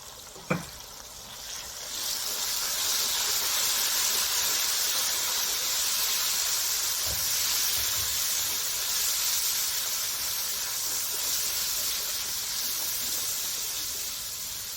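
Ground tomato fries in a pan with garlic and cumin for dhaba-style chana daal. After a brief knock it becomes a loud, continuous close sizzle and hiss that holds steady throughout.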